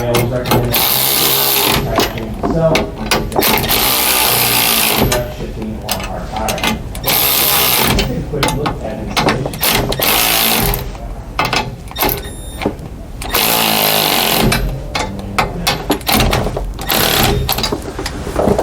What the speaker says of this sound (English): then we're going to finish tightening these U-bolts up.